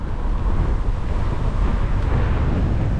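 Strong, steady wind buffets the microphone outdoors at Isaberg bike park, a continuous low roaring rumble that stays loud and unbroken with no voices.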